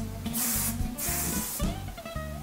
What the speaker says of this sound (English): No, this is not a setting spray. This is a hairspray.